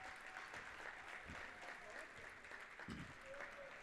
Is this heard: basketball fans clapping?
yes